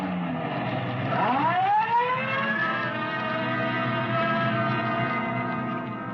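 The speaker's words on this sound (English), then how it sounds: "Code 3, red light and siren." A siren winds up and settles into a loud, sustained wail, with a vehicle engine droning underneath.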